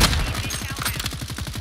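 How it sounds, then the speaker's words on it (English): Rapid gunfire from a video game firefight, a dense stream of loud repeated shots lasting throughout with no pauses. "he's shooting me from in the gas"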